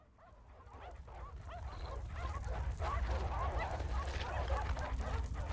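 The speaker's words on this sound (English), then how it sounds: "The stray dogs began to whine, fearful of the hulking figure before them." Stray dogs whine in the video game Witch on the Holy Night, a cluster of short, high, wavering cries that grows steadily louder over a low rumbling backdrop, with no talking.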